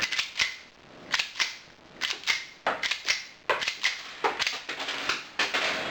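Fake practice rounds are cycled by hand through a Walther P5 pistol, making a string of sharp metallic clacks and snaps in irregular pairs, close and crisp against a quiet background.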